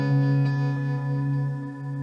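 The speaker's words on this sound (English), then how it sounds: "One of my favorite modulations, this harmonic trem." Acoustic guitar runs through a Line 6 Helix harmonic tremolo effect at about half mix, with a sustained chord pulsing gently and slowly in volume and tone, heard alone.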